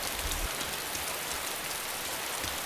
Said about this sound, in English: But it's nice and rainy today,